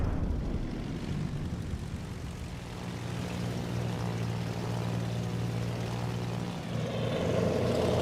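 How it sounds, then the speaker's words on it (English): Propeller airplanes drone overhead in World of Warships, a steady, sustained engine hum carrying evenly across the whole stretch, moderately loud and with no talking. "See those airplanes that look funny up there?"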